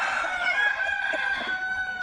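A Thai fighting rooster crows in one long, loud, close call that holds for about two seconds with a strong, steady tone.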